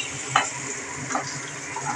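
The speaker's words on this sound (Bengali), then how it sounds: "আমি নুন হলুদ দিয়ে আলুগুলো ভেজে নেবো" Potatoes fry in oil with salt and turmeric in a steady, close sizzle, with a few light stirring clicks over it.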